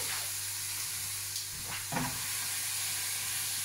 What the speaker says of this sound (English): Just fire in the sauce, heat it up, mix it around.